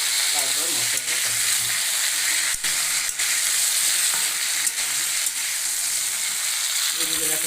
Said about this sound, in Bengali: আর একটু ধনেটা ভেজে দিচ্ছি